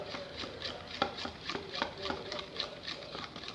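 Homemade slime stirred in a bowl, a rapid run of soft, wet clicking and squelching strokes, close and even in rhythm.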